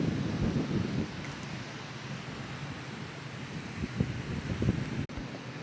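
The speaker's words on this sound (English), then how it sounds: "it's really windy up here." Strong wind on Cheaha Mountain's summit in Alabama buffets the microphone in broad, rushing gusts, loud and continuous, with a brief dropout near the end.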